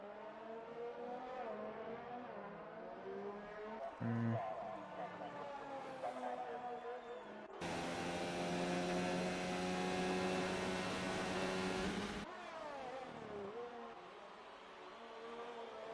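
Formula 1 car engine at high revs on a flying lap at the Britain circuit in F1 2019 racing game, a steady loud whine with gear shifts and a louder stretch midway, under a commentator's talk.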